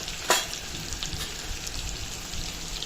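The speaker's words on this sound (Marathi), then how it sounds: "मी टमॅटो ॲड करत आहे आणि टमॅटो पण आपल्याला मस्त छान परतून नाही शिजून घ्यायचं आहे" Tomatoes with coriander powder, turmeric and red chilli powder sautéing in a pan, a steady soft sizzle with one sharp crackle near the start and no talk.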